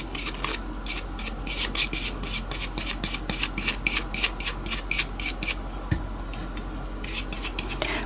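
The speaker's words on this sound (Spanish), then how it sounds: "Después lo que nos sobre lo quitaremos con una lima." A file rasps off excess rice paper against a glass jar, a steady run of quick, scratchy back-and-forth strokes, close and fairly loud, continuing for several seconds with no talk.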